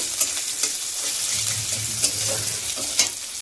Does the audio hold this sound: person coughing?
no